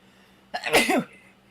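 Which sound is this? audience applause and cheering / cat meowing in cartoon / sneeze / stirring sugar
sneeze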